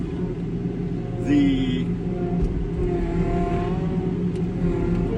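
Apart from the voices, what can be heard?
JCB 215T tracked skid steer engine running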